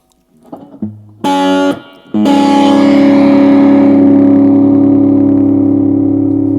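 A Fender Japan guitar amp cranked loud with the bass at zero gives harsh fuzz distortion: a few picked notes and a brief chord, then one big sustained chord that rings out and slowly fades.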